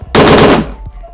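A big gun fired in a monster-filled video game, a single loud, close burst of rapid crackling shots lasting about half a second, then a quick decay and a faint thud.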